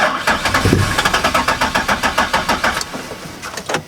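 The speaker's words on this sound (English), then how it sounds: "The car's not turning on because it doesn't have any gas." A Nissan 370Z engine cranks repeatedly in a fast, rhythmic chug that never catches because the tank is out of fuel, stopping briefly and then cranking again; loud and close.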